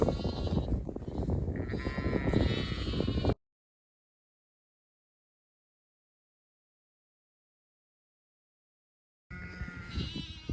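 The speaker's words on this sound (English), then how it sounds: "I always get a bit nervous about the last couple of sheep the first time I move them" Sheep bleat loudly and continuously as a flock is moved into a new paddock, with a long silent gap in the middle before the bleating resumes just as strongly.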